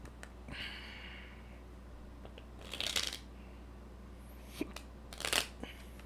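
Tarot cards shuffled by hand, two short riffling bursts with softer handling sounds between them, close by in a quiet room, with no talk.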